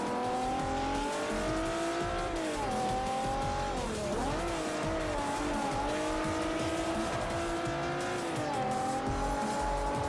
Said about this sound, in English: Forza does a good job with the VQ noises